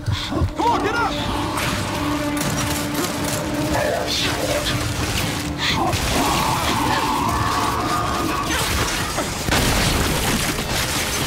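Frag grenade blasts in the video game Gears of War 5 boom and crash through dense, continuous in-game noise, with heavy impacts near the start and again toward the end amid mechanical clatter.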